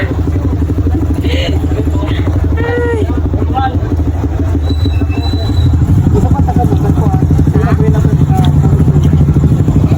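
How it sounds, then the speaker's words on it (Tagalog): A motorcycle engine runs close by with a rattling drone while people talk over it, the engine growing louder partway through. "Sakay kami ng motorcycle."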